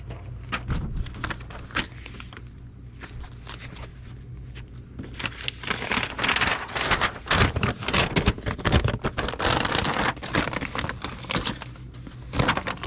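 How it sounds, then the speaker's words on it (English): Comic books are packed into a plastic mailing envelope, producing rapid crinkling, rustling and sliding plastic sounds, close up, dense and irregular, building toward the second half with no talking. "We're going to put those in a tie-vac envelope."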